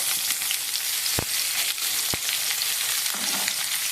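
Chopped onions and potatoes frying in hot oil with black cumin seeds and dried red chillies in a pan, a steady close hiss broken by two sharp knocks of a utensil.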